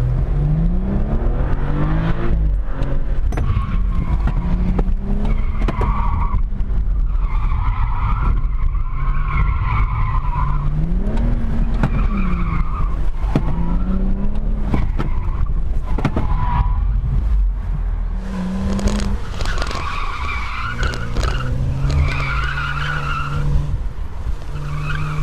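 An autocross car launches hard and skids through the course, with loud, continuous tire squeal and revving engine tones rising and falling over about 25 seconds, close and steady throughout.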